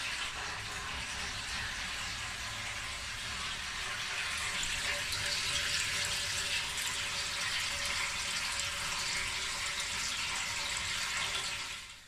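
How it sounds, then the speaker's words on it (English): Tap water runs steadily into a kettle at home, a continuous broad hissing gush that holds for about twelve seconds before stopping, close and alone. "now I'll fill the kettle with tap water"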